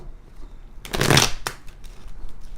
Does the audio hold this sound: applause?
no